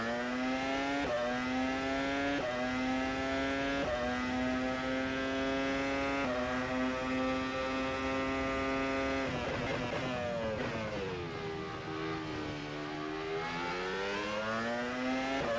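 An F1 car engine in a sim racing video game screams at high revs, climbing through gear after gear in repeated rising sweeps, then dips and rises again as it brakes and accelerates, loud and continuous with no talk.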